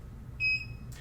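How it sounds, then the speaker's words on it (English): A single short electronic beep from a Setaflash Series 8 ActiveCool flash point tester, signaling it is stabilized at temperature, sounds clearly over a low background hum, followed by a faint click. "we heard that beep, our play button turned green"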